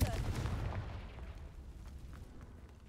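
A fire spell cast in a video game bursts loudly into dry vines, a heavy booming blast at the start that rumbles and slowly fades over a few seconds.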